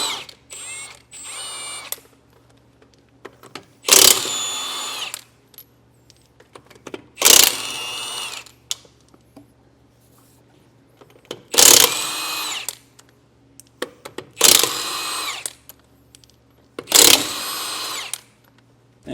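An impact wrench zips lug nuts off a trailer wheel fitted with a Kenda Karrier KR53 ST225/75R15 radial tire, in five short, loud, rattling bursts spaced a few seconds apart, with quiet gaps between.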